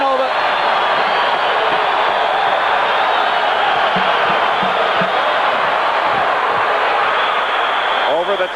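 Home crowd at a 1985 Louisville Cardinals basketball game against the Memphis Tigers, a loud sustained roar of cheering fans filling the arena, with occasional ball bounces and a commentator talking over it.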